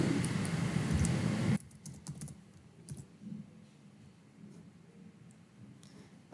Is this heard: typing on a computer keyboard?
yes